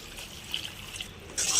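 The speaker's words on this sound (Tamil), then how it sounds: "இப்போ காய் வேகிற அளவுக்கு தேவையான அளவு தண்ணி ஆட் பண்ணிடலாம்." Water poured into a pan of carrot and beans stir-fry, a soft steady trickle that swells into a louder splash near the end, close by with no talk.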